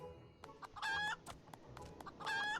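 Two bright, drawn-out chicken clucks or squawks in Final Fantasy XIV, each about a third of a second, cutting through a low background rumble.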